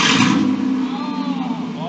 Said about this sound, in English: Now this is how you make your truck a little bit louder. Give her a rev.